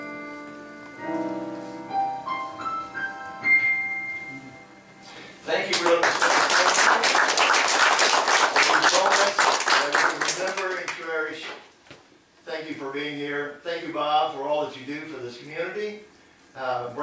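Audience applause at the Sunday Gospel Show at Bob's breaks out loudly after a short run of music and lasts several seconds as a dense, sustained clatter of claps, then gives way to a voice speaking.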